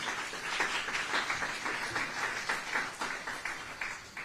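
A crowd applauds steadily, a dense wash of many hands clapping at a sustained, moderately loud level throughout.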